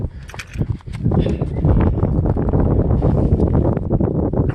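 Strong outdoor wind gusts roar and buffet the microphone up close, building after a quieter first second into a steady, rough rumble that fills the whole stretch.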